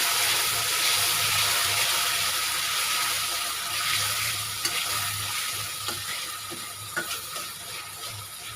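Spice masala for dried shrimp sizzles steadily in a hot pan, with stirring scrapes and occasional clinks of a spoon against the pan, close and continuous.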